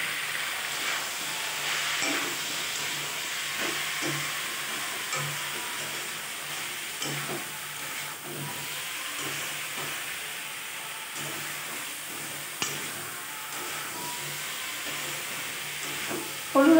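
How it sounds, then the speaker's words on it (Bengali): Chopped vegetables frying in a pan with turmeric and salt, a steady hissing sizzle running throughout with occasional faint stirring scrapes, fairly quiet and close, no voices. "হলুদ আর লবণ দিয়ে ভালো করে আমি একটু ভেজে নেব"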